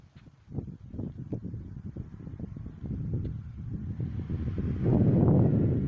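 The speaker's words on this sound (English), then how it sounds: "It's a bit of a windy day, so I'm curious how these microphones are going to hold up." Wind buffets the microphone in low, rumbling gusts that swell and grow louder toward the end, with no voices.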